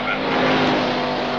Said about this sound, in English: That old 39 dodge is really out there moving.